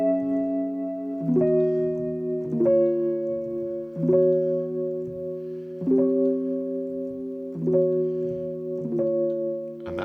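A sequence of guitar chords, each sustained harmony struck and held for about a second or two. The chords change at a steady, unhurried pace with no voices over them.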